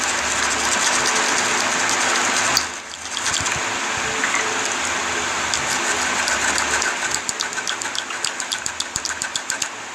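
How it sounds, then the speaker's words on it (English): A fiberglass pen scrubs across a ribbon cable, making a close, gritty, hissing scratch that pauses briefly. The rubbing then resumes as a series of quick, rhythmic strokes. "I'm just going to gently rub across this area here to try to expose some of the"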